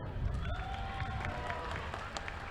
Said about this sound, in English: Please give them all a round of applause for their hard work and dedication.